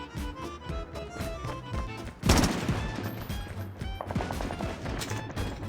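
Rapid bursts of Chicom gunfire in Call of Duty Mobile, a loud stream of sharp repeated shots with a heavier blast near the middle, continuing steadily to the end.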